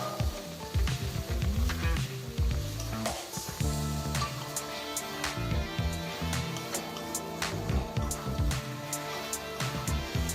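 Prawns for a coconut-milk malai curry hitting hot oil in a pan, producing a dense sustained sizzle and crackle with popping bursts and a few faint background sounds.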